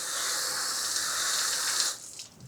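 Water poured or sprayed onto a spill-proof folding high-top cocktail table, a steady close hiss and splash that runs for about two seconds and then cuts off, followed by a few faint drips.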